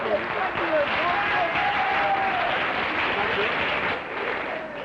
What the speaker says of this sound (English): I can hear the guys cheering here.